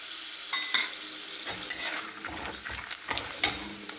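Cumin seeds crackle and sizzle in hot oil in a pan for a dadpe pohe tempering, with a steady frying hiss under several sharp spoon scrapes and taps as the seeds are stirred close by.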